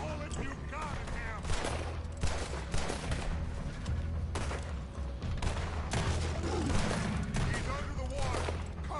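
Gunfire in the video game Red Dead Redemption 2: dense, continuous shooting and bursts of shots with distant booms, running loudly throughout under voices and game sound.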